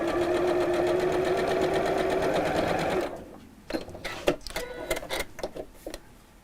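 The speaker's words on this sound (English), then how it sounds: "I don't have to start sewing right on the end of my fabric and risk it getting chewed up inside my machine" A sewing machine stitches a strip of fabric in a steady, loud mechanical whir for about three seconds, then stops, leaving a run of scattered soft handling clicks and taps.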